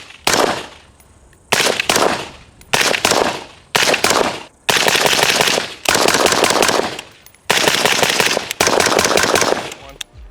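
Bursts of rapid, loud suppressed rifle fire come in several strings separated by short pauses, each volley a fast rattle of sharp reports, through a Ridgeback Defense Rhodie 6 suppressor.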